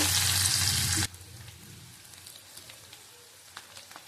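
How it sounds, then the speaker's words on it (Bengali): Chopped onions fry in hot oil with a loud, dense sizzle for about a second, then a much quieter crackle and occasional pops continue. "পেঁয়াজ কুচি দেবো ভালো করে ভেজে নেব"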